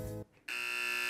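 A basketball game buzzer blares, a loud sustained electronic tone that cuts off briefly and then returns, steady and harsh.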